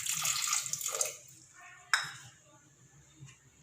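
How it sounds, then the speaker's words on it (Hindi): Small amount of water poured into a blender jug in a home kitchen, a brief splashing pour followed by faint clinks and quiet handling. "थोड़ा सा पानी में ऐड कर रही"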